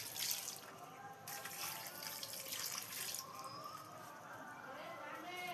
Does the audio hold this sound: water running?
yes